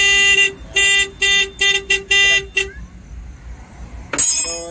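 A car horn on a DA63T vehicle, wired directly to test it, honks loudly in a series of short, uneven blasts, then stops; a sharp burst of noise follows near the end.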